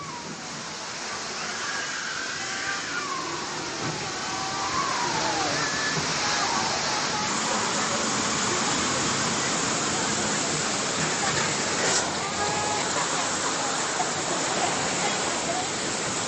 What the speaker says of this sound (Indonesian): Hujan disertai puting beliung melanda Klaten dan sekitarnya.